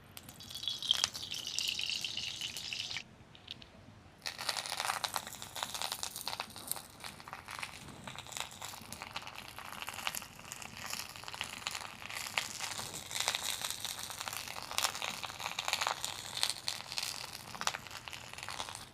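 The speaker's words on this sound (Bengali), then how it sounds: "এইবারে পাতুরিগুলোকে ভেজে নেব।" Bhetki fish paturi wrapped in banana leaf frying in a little oil in a kadai, a dense steady sizzle and crackle with a brief quiet gap early on, close and continuous throughout.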